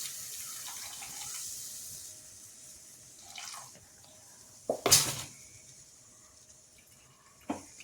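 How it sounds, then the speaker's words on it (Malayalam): Second coconut milk poured into a pot of fish curry, a soft liquid stream running for a few seconds, then a few louder splashes and clinks near the end. "അപ്പോൾ ഇത് നമ്മൾ രണ്ടാം പാലാണ് ഒഴിക്കുന്നത്"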